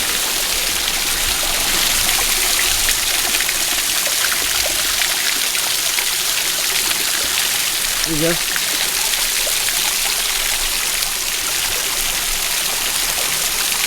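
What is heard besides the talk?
water of a stream flowing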